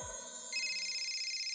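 A phone ringtone for an incoming call chimes steadily as a sustained electronic tone that shifts to a higher pitch partway through, moderately quiet with no talking.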